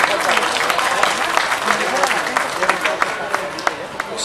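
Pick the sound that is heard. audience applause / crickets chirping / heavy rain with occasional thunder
audience applause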